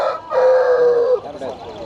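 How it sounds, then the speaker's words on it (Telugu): A Bersa breed rooster at a country poultry market crows once, a long, drawn-out call close by with market noise behind it. "ఇక్కడ చూడండి మనకు కోడిపుంజు ఉందండి"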